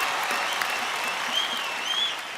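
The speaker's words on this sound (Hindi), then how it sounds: "हमारे दोस्तों के लिए जोरदार तालियां हो जाए" Studio audience applause on a Hindi comedy talk show, a dense burst of close clapping that stays loud and then fades slightly at the end.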